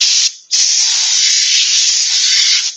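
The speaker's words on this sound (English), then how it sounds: "I'm now just sanding dust" Sanding a wooden chalice gives a steady, loud abrasive hiss that carries on almost without a break, with only one short dip near the start and no voices.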